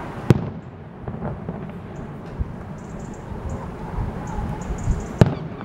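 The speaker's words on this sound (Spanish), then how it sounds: "Están tirando unos fuegos artificiales" Distant fireworks go off in a few sharp bangs, with a loud pop near the start and another near the end over a low outdoor rumble, outdoors in Pontevedra, Spain.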